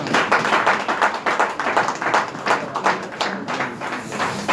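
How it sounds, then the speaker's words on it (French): At a political campaign launch, an audience claps for an honorable senator, a fairly loud, close run of clapping with a loose, uneven rhythm. "Si je vous demanderais d'applaudir très fort."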